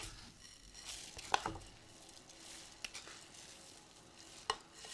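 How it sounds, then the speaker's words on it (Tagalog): Rice stirred into simmering coconut milk with ginger, sugar and salt in a casserole over low heat, with soft wet stirring, faint bubbling and a few sharp clicks of the spoon against the pot. "keep mixing until the rice has absorbed all the coconut milk"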